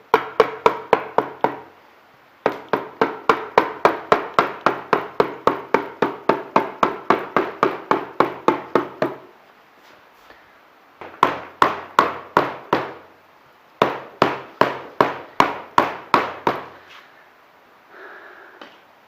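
Dowels being tapped into place on a 2002 Husaberg FE400 engine: long runs of fast, evenly spaced sharp taps, loud and close, broken by short pauses before each new burst.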